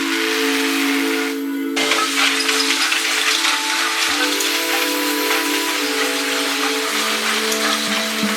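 Southern 4501 steam locomotive roars past on a run, loud and close, with a sustained hissing steam whistle blowing over a continuous wash of steam and rumble.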